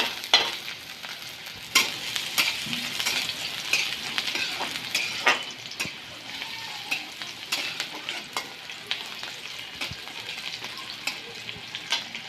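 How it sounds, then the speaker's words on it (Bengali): Chilies frying and being stirred in a pan while cooking greens with prawns, a steady close sizzle broken by repeated scraping stirs and light clinks of a utensil against the pan, with no talking. "লঙ্কা ভাজা হয়ে গেছে"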